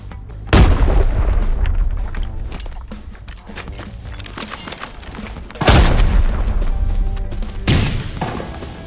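Grenade blasts and gunfire in the shooter game Arena Breakout: three sharp, loud booms land at intervals, the first and second followed by rumbling decay, with scattered smaller shots and clatter between them and no talk.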